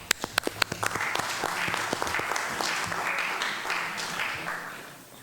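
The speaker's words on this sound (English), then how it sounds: "Let's give him a round of applause." A few sharp individual claps open, then the audience at a general assembly breaks into sustained applause welcoming a senator, dense and steady before slowly thinning, heard from within the hall.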